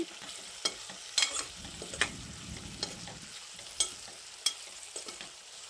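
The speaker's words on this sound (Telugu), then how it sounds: "బాగా మిక్సింగ్ చేసుకోవాలి ఫ్రెండ్స్" A spoon stirs a tomato and garlic mixture frying in a pan for a cucumber pickle, soft sizzling under repeated sharp scrapes and clicks against the pan, close and fairly quiet.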